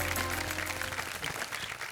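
Audience applause for a MasterChef India contestant, a short burst of steady clapping from a studio crowd that fades slightly toward the end.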